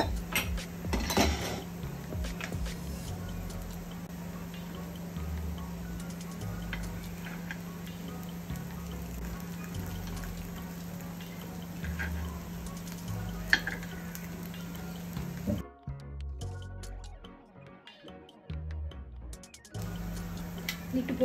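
Ragi cheese corn paniyaram fries in a pan, a steady sizzle with small ticks and stirring clatter throughout, briefly dropping away near the end before resuming.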